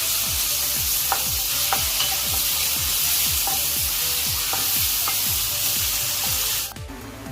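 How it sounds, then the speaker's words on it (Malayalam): Chopped onions sauté in hot oil with a loud, steady sizzle. A spoon stirs and scrapes the pan in a regular rhythm, and the sound cuts off sharply near the end. "ഇനി അതിലേക്ക് നമ്മൾ ചോപ്പ് ചെയ്ത് വെച്ചിരിക്കുന്ന ഓണിയൻ ഇട്ട് കൊടുക്കാം. ഒന്ന് സോട്ട് ചെയ്തെടുക്കാം."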